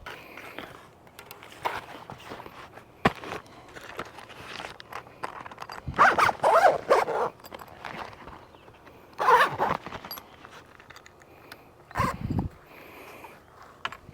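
An efoil foil being packed into its bag, with soft rustling handling and a few short bursts of zipping, close and moderately loud against quiet background.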